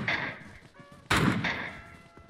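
Gunfire in the PUBG Mobile shooter game cracks out in two sharp, loud bursts about a second apart, with faint background sound between them.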